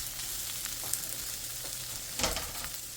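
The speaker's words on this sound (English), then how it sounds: "And we'll cook off our cabbage." Thinly sliced cabbage sizzling and frying in a pan, a steady crackle with a couple of louder stirring scrapes, close up and with no talk.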